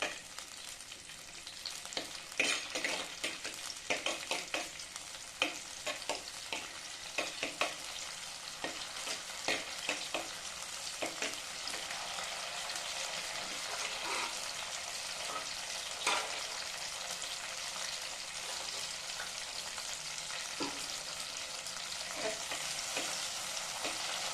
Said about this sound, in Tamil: மிளகா கொஞ்சம் பச்சை வாசனை போகிற அளவுக்கு எண்ணெயில் கொஞ்சம் வதக்கணும்